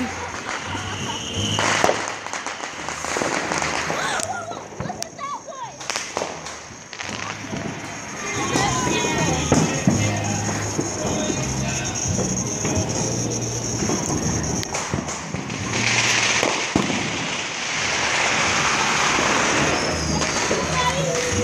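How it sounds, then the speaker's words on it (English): New Year's fireworks pop and crackle repeatedly at varying distances, with children and adults talking and cheering throughout. "I think I got enough firework footage"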